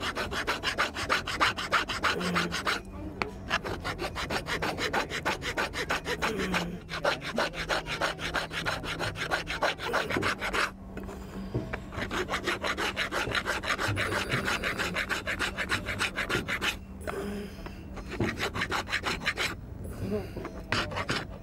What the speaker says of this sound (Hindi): अब तारकशी किए हुए काम को रेती के जरिए इकसार कर लेते हैं इस तरह से